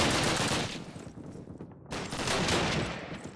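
Continuous gunfire in the video game Call of Duty, including submachine-gun fire, forms a dense, noisy roar of overlapping shots with a short lull before it resumes at full strength.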